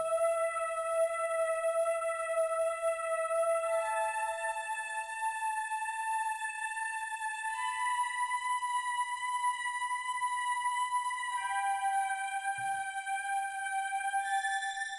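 Serum synth lead softened by a high-cut EQ, playing a slow, quiet melody of long sustained tones that step through a few pitches, steady and alone for about fifteen seconds.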